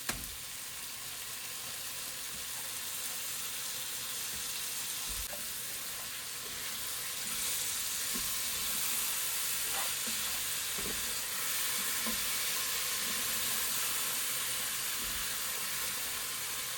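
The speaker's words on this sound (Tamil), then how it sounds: "ஸோ இப்போ இதில் வந்து நான் தயிர் போட்டுக்கிறேன்" Yogurt stirred into mutton yakhni pulao in a hot pot, a steady loud sizzle and hiss with soft stirring clinks and scrapes throughout, no voices.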